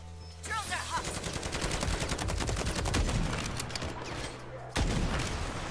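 Sustained gunfire in Modern Warfare 3 Zombies as sentry turrets are shot at, a dense rattling fusillade of rapid shots running almost the whole time, loud and close, with a heavier burst near the end.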